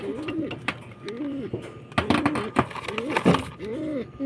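Several pigeons coo in repeated low, throaty rolls, with clattering and rustling noises between calls, close by.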